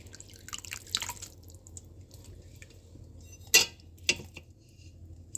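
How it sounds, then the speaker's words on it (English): Homemade chicken bone broth drips through a strainer into a bowl, with sparse small drips and a couple of sharper clinks of the metal strainer, close and quiet in an otherwise still kitchen. "so just get it up, let it drip out."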